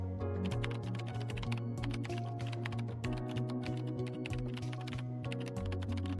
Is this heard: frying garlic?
no